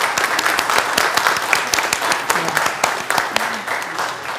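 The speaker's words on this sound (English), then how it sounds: "I feel like we need to give her a round of applause and say thank you." Church congregation applauding during a worship service, a lively burst of many hands clapping with sharp individual claps, close and loud, with some voices mixed in.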